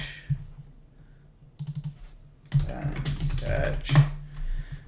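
Close keyboard typing while labeling a pen sketch file, a few scattered key clicks early and then a denser, steady run of clacks over a low background hum, no one speaking.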